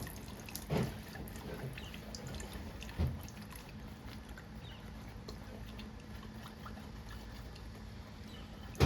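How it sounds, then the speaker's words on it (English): Diesel fuel drains from an engine drain pan on a 6.0 Powerstroke, a quiet steady trickle broken by a few louder splashes and drips. "I have to dump out our drain pan."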